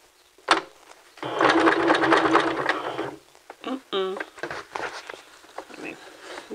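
Sewing machine backstitching a men's vest, running in a steady whirring burst for about two seconds, then short stops and starts with light clicks as the fabric is worked over a thick seam.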